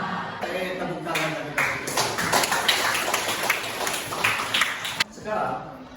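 Applause from students in a classroom, a dense patter of clapping that runs for about five seconds with voices mixed in.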